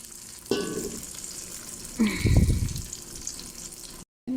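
Raisins dropped into hot oil for biryani, two bursts of sizzling as they hit the pan, the second louder and crackling, then a steady fry before an abrupt cut.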